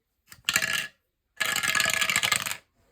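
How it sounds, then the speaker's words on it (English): A six-sided die rolled on a hard surface: a short rattle, a pause, then a longer clattering tumble, close and alone. "so we'll roll a 6-sided dice"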